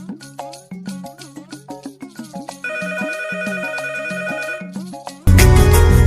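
A mobile phone plays a bright melodic ringtone, a rhythmic run of electronic tones shifting into a sustained layered passage, then cut off by a sudden loud, noisy burst near the end.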